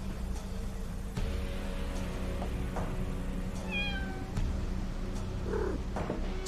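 A cat in the game Chaos on Deponia gives a single clear, rising-then-falling meow over a steady low background hum, with a few soft clicks around it.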